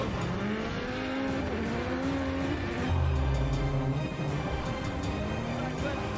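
A Formula Drift pro car slides through the final clipping point during knockout qualifying at Long Beach, with an engine wailing through shifting revs, tires screeching, and a commentator talking over the loud, continuous roar.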